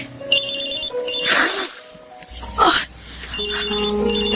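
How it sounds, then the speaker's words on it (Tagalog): A mobile phone rings in a Filipino drama, its repeating electronic ringtone chiming clearly and fairly loudly, with a couple of short vocal bursts cutting across the ringing. "May napatawag sa cellphone ko."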